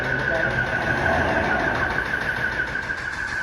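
A crack injection pump forcing material into a wall at about 3,000 PSI runs with a steady, loud mechanical drone and a sustained high tone, with a voice talking over it.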